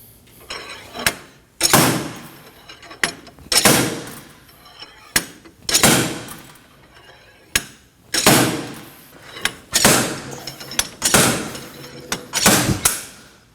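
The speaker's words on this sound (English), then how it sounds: "To remove the hub, we're going to be using a slide hammer." A slide hammer pulls a front wheel hub and bearing off a 2011-2016 Kia Optima, hitting about ten loud metallic strikes at a steady rhythm of roughly one every second and a half, up close with no talk.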